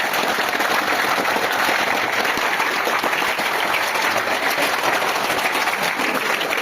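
Group of college students clapping steadily together for a sustained stretch, dense and loud throughout with no pauses.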